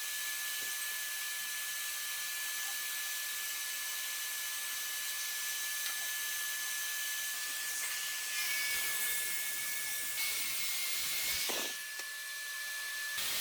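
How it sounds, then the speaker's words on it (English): A saw rips through plywood cabinet panels in a workshop: a steady, loud, hissing whine runs throughout, with the tone shifting near the end as the cut finishes. No voices. "Nothing fancy here, just cutting the cabinets apart to size so we can get the build underway."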